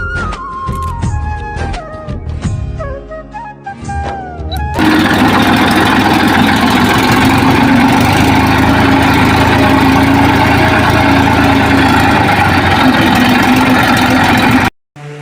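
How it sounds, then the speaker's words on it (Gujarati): A tractor engine runs in a farm field while fodder is being collected. Music plays first, then the steady, loud idling drone takes over and continues unbroken for about ten seconds before stopping abruptly. "અમારા મોહિતભાઈ પરમાર ટ્રેક્ટર ચલાવી રહ્યા છે"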